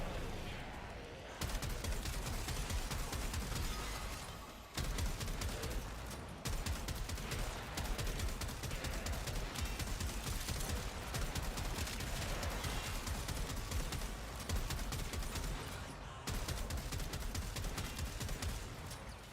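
Heavy weapon fire and blast explosions in the video game Warframe, a dense nonstop barrage of rapid shots and booms with brief gaps, loud and continuous.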